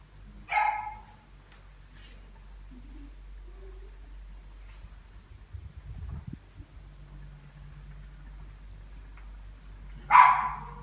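A dog barks inside a house, two short bursts heard from another room, one near the start and one near the end, with a low steady hum and quiet shuffling in between.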